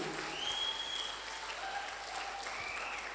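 Applause from a seminar audience, a steady wash of many hands clapping that holds at a moderate, even level throughout, somewhat distant, with no talk over it.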